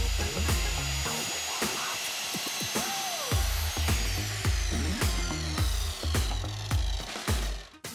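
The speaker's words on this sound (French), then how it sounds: "Pour raccourcir, prenez la scie à onglet toujours disponible dans l'atelier." Repeated sharp percussive hits and rattles of a miter saw cutting wood, a busy workshop din with a brief whine midway.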